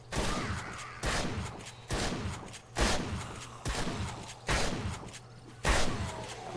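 Shotgun fire in the zombie survival game 7 Days to Die: seven heavy, booming blasts spaced about a second apart, each with a short decaying tail, loud and close.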